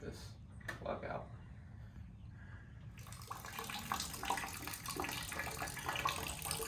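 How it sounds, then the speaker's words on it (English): Water drains from a Chevy Blazer radiator as a steady splashing, trickling flow that grows louder partway through, continuous and close in an outdoor garage setting, with faint voices underneath. "Trying to drain the water, but I can't get this plug out."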